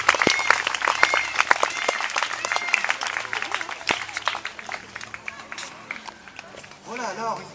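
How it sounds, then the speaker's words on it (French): Crowd applause at an outdoor eagle show at Le Pal, a busy clatter of many hands under a presenter's ongoing talk, with bird calls rising near the end. "Je crois qu'on pourra l'applaudir bien fort"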